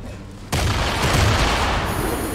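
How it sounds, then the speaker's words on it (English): An explosion set off by gunfire on a C4 charge in the Fortnite battle royale game, a sudden loud blast that hits after a quiet moment and roars on as a dense, close rumble before tailing off. "Oh, we need to shoot a C4."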